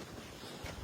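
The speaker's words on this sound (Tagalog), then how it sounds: "Ang lakas pala ng hangin." Strong wind buffeting outdoors near a garage, heard as a faint, continuous rushing roar with low gusty thumps against the microphone, no voices.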